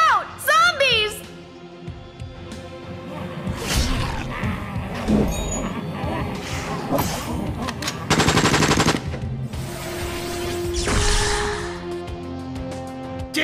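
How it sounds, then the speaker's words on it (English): Bursts of machine gun fire aimed at zombies in the mobile game Puzzles & Survival, rapid rattling volleys over game music and effects, broken up by character voices talking between the shots. "Our gunshots are drawing in more zombies."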